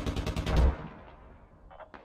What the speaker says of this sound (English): Some beautiful machine gun fire coming out here across the open fields.